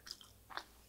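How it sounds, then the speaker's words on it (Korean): Two soft, close bites and chews of a homemade mugwort rice cake (ssuk-gaetteok), a chewy Korean rice cake, each a short moist crunch with a quiet pause between and no talk. "쑥개떡도 한번 먹어볼까요?"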